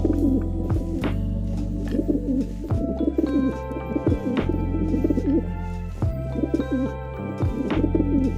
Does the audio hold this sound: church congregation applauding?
no